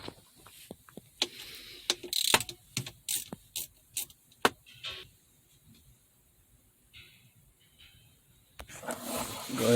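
Torx T20 screws come out of a 2015 Jeep Cherokee shifter, a driver giving a quick series of close, sharp clicks and ratcheting ticks with quiet gaps between bursts.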